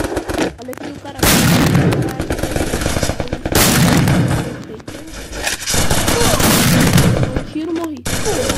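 Loud, rapid bursts of video game gunfire repeat across the clip, with a few short pauses between volleys and faint talking underneath.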